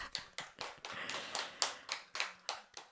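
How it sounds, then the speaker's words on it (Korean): Rhythmic applause from the audience at a Sunday Buddhist Dharma service on the Diamond Sutra at a Zen center, heard as soft, steady hand claps in a quick even beat, faint and slightly distant, with no talking. "박수!"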